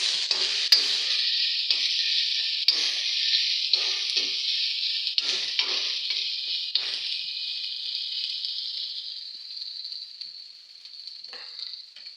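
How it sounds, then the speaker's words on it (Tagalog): Bright, steady sizzling of tomatoes being stirred into frying egg curry, the hiss loud and close, broken by short scraping stirs that fade as the sizzle calms toward the end. "Lagay ko na yung yung kamatis. Tapos halo-haloin lang, mix."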